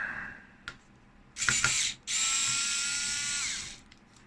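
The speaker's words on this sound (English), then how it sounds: "I believe I have to unscrew these 3 screws." Three rusty screws being unscrewed from a fan, heard as brief clicks followed by a sustained whirring, buzzing power-driver run of about one and a half seconds, close and alone without talk.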